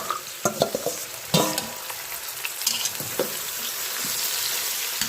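Aubergines cook in olive oil for a ratatouille, giving a crackling sizzle marked by sharp pops and clatters of stirring utensils, steady and close.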